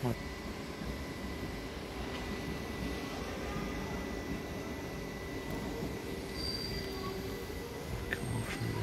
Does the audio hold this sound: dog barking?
no